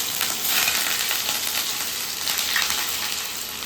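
Ginger dropped into hot white oil in a pan while cooking a Bengali cauliflower and potato curry, sizzling in a loud, continuous crackling hiss with no voices.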